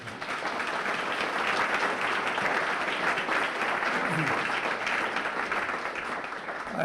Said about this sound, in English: Applause for the people.